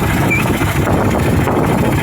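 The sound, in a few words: fishing boat engine running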